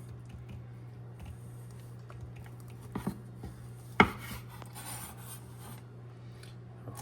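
Knife trimming the edges off a smoked beef brisket on a cutting board, a few soft cutting and squishing sounds close by, with one sharp knock against the board, over a low steady hum.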